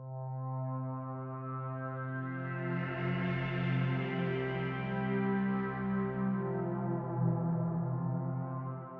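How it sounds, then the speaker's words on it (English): A sustained Jupiter's Organ pad from the Ethereal Earth library, a rich drone of steady stacked harmonics that slowly brightens and swells midway, held alone at moderate level with no voices. "And I used this Jupiter's organ from Ethereal Earth."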